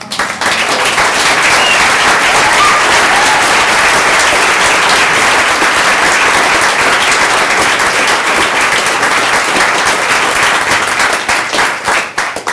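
Loud, dense audience applause fills a live reading event from start to finish, a steady roar of many hands clapping with faint crowd noise beneath and no pause.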